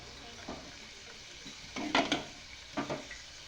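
Cooked mutton going into a hot pan of onion-spice masala for a village-style rassa gravy: a low steady sizzle with a few louder stirring scrapes and clinks of a spoon against the pan.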